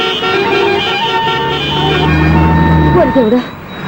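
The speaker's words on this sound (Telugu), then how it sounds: "ఇదేం ట్రాఫిక్ ఇదేం రోడ్లు" Road traffic with car engines running and sustained horn tones sounding close by, with a voice breaking in near the end.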